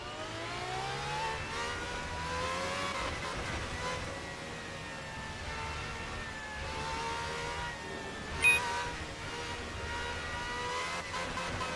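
Formula V12 race car engines scream in Assetto Corsa, several cars' high harmonic whines rising and falling as they accelerate and pass, with a short sharp click partway through.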